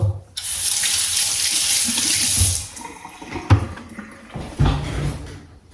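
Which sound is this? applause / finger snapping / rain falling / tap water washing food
tap water washing food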